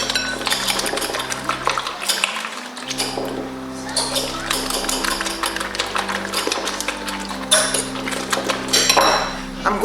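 Spaghetti omelette ingredients are mixed in a bowl, a utensil clattering and scraping against the sides in quick irregular strokes. Close and fairly loud, with a brief pause part way through.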